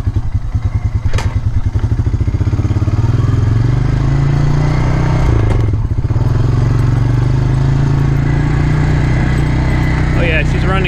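A Honda Rancher ATV engine runs loud and close during a ride, a steady chugging drone that rises briefly in pitch, with a person talking over it.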